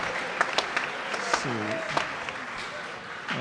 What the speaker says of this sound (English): So I think we ought to give her another round of applause.